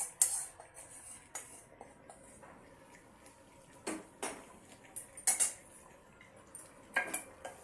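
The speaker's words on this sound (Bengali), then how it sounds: "নাড়িয়ে দিলাম।" Chicken curry with fried potatoes being stirred in a pot, a handi: scattered clinks and scrapes of a metal spoon against the pot come in irregular bursts over a quiet background, with no one talking.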